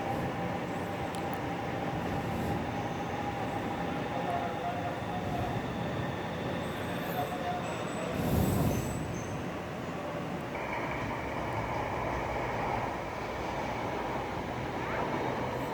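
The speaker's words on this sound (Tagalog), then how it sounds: "So ito na po yung LRT 1 train na papuntang Sukat." LRT 1 light rail train standing at a station platform on the line toward Sukat, giving a steady loud rumble and hum with a brief louder swell midway and a higher whine joining near the end.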